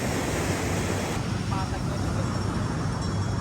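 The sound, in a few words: strong ocean waves at a beach in Zambales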